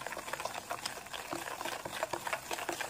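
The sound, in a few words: mixing powdered sugar and oil together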